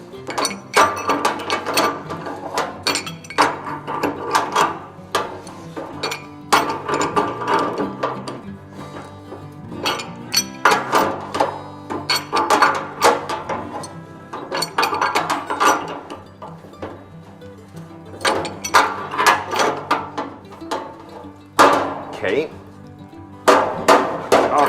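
Vice grips tightening a tap fitting on a maple sap evaporator pan, a run of sharp metallic clicks and ratcheting clanks in uneven bursts, close by, with occasional handling knocks between.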